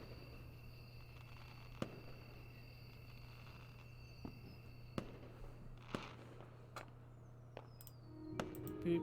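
Fireworks in the visual novel Angels with Scaly Wings, faint distant pops and crackles scattered irregularly over a low steady hum and soft background bed, with a few whistling streaks, no talk.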